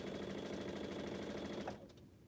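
A sewing machine stitches quilt blocks made of scrap fabric, running in a fast steady whir close by before stopping abruptly, with a few soft clicks after.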